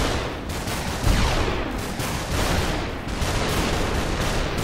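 Enemy gunfire in the video game Superhot, a dense continuous barrage of rapid shots and bursts with no break, loud and steady throughout.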